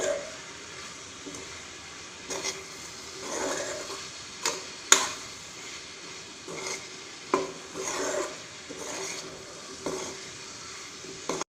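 Chopped mango pickle being mixed in a bowl, with soft intermittent scraping and clinking of the spoon in uneven bursts, close and fairly quiet.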